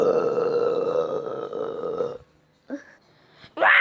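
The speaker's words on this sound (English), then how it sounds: "stop burping" A person burps loudly after drinking soda: one long, rumbling belch, then a short pause and two shorter burps close to the mic.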